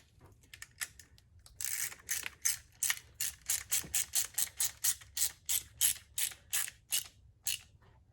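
A ratchet wrench tightening a bolt back on a car engine cover, a rapid series of about twenty crisp metallic clicks in a steady rhythm, close and alone.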